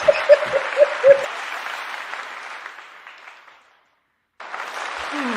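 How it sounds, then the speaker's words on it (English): A brief burst of applause from a small group fades out after a few seconds, followed by silence and then a faint hooting sound. "That was a short applause, Kesha."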